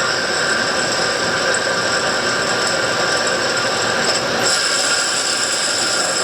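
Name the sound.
Doosan Puma 2000SY CNC turning center live tool spinning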